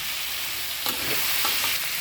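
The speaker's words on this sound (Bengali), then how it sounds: "দেখো সবজিটা সুন্দর মতো ভাজা হয়ে গেছে" Vegetables with turmeric frying in a pan, a steady close hiss of sizzling oil throughout with a few soft stirring clicks and scrapes, no talk.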